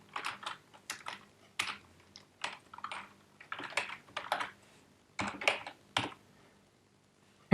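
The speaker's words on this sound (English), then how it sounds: "I'm just gonna type in animation" Code being typed on a computer keyboard, a steady run of close, crisp key clicks in uneven bursts with short pauses, no talking.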